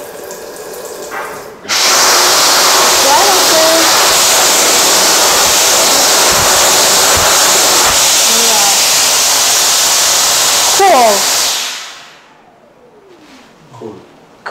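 A tap runs steadily into a drainless smart-home sink while hands are washed, a loud continuous rush lasting about ten seconds before cutting off, with faint chirps over it and quiet room tone after.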